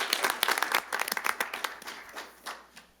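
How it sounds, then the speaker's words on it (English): Scattered clapping from a small city council meeting audience, a few dozen hands beating unevenly at close range, thinning out toward the end. "One more big round of applause."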